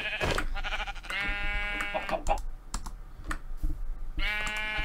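Sheep in the Minecraft modpack SevTech Ages bleat in a few loud harmonic calls, with clicking keyboard taps between them at close range.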